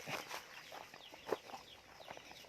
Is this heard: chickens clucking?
yes